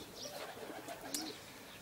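Pigeons coo softly at a loft as birds return from a flight, with low burbling calls and a brief sharper chirp over a faint outdoor background.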